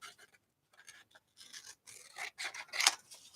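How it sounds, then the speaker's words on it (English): Scissors trimming the end off a strip of paper while making paper dolls, a quiet series of short snips and rasping cuts with brief pauses between them, close by. "I'm going to cut this end off because that's just the end of it"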